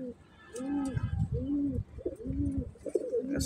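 A pigeon coos in repeated low, rounded phrases, several close calls in a row, with faint chirps and background noise around it.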